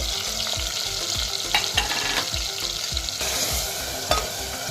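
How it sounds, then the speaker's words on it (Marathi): Spices sauté in a new pressure cooker with a bright continuous sizzle and rhythmic scraping of a spoon stirring every half second or so, close and loud with no voices. "मसाले छान परतून घ्यायचे आहे"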